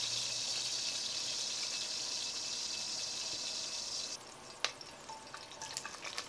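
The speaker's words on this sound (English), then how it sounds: "Turn them over so that you can brown them on all sides." Red grouse pieces sizzle steadily as they brown in a pot, a loud continuous fry that drops off sharply after about four seconds, leaving a quieter hiss broken by a few small clinks and knocks.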